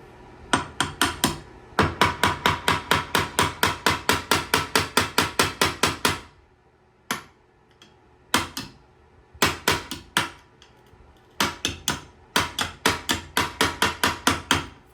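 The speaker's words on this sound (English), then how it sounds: "I'll actually chip the glaze off like that" Rapid metallic tapping in quick bursts as a screw or nail chips glaze off a tile, with short pauses between runs of strikes.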